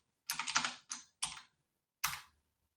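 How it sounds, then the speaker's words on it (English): Quick keystrokes on a computer keyboard come in a short burst, then a few separate taps, close and clear against near silence. "I'm typing without even looking what I'm doing."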